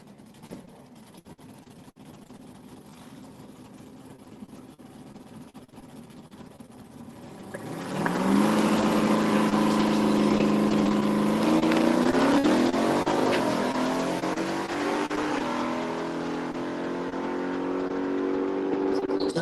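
A 1977 Camaro Z28 makes a drag racing run at the strip: a quiet stretch gives way to a loud, sustained engine roar that climbs in pitch through the gears and holds strong to the end.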